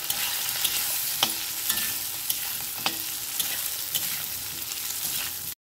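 Whole frozen cherry tomatoes fry in hot oil with a steady close sizzle, broken by several light stirring scrapes and soft clicks from the pan.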